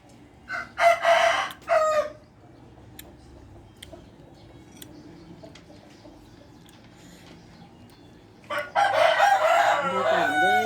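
A rooster crows loudly twice near the start and again at the end, with chickens clucking quietly in between on a rural Thai farmyard.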